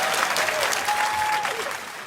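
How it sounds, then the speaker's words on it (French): Comedy show audience, mostly women, applauds loudly in a dense, sustained burst that begins to fade toward the end. "Je sais pas comment j'apprends ces applaudissements, il y a que des femmes qui applaudissent."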